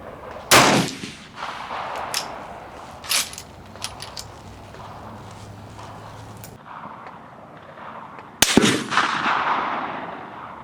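Rifle shots crack out at an outdoor shooting range, one sharp loud report early and another near the end, with several fainter distant shots from other shooters between them and a quiet outdoor background.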